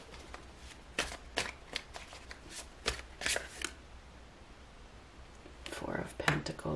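Tarot cards are shuffled by hand in quick riffling bursts, with sharp crisp snaps at an uneven rhythm close by and a denser flurry toward the end, heard with no talk.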